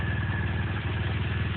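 A 2014 BMW dual sport motorcycle engine runs steadily at idle close by, a continuous low throbbing rumble with a mechanical clatter and no talk.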